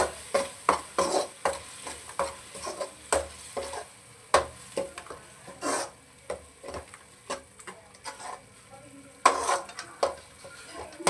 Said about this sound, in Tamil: ஒன்றரை கிலோ மட்டனுக்கு நாலு கரண்டி டொமேட்டோ போதும் இதை நல்லா மிக்ஸ் பண்ணி விட்டுக்கலாம்